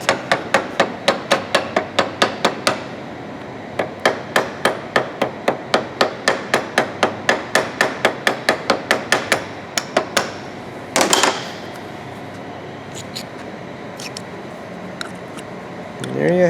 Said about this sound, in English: this is the part where it'd be nice to maybe have a ball peen hammer that's a little bit smaller